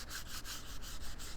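Soft, rhythmic rubbing of sandpaper on wood, quick light back-and-forth strokes repeating steadily and close up.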